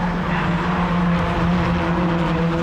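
Ford Fiesta Zetec Challenge race cars roar past on the Oulton Park circuit, a dense, continuous engine drone with tyre noise, loud and close, no voices over it.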